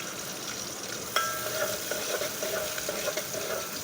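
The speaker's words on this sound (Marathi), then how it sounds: "आता त्याच्यामध्ये कांदा बारीक चिरलेला घालून घेऊया आणि याला चांगलं असं तळसून घ्यायचं आहे" Finely chopped onion fries in hot oil in a pan, giving a steady, close sizzle with occasional light scrapes and clinks of stirring.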